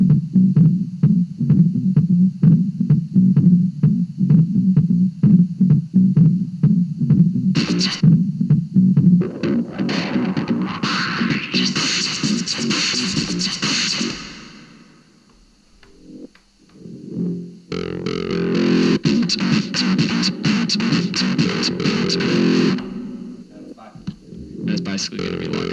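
A Boss RC-505 MK2 loop station plays a layered loop with reverb, a pulsing beat and bright effected texture that drops out briefly near the middle before returning loud, with a person talking over parts of it.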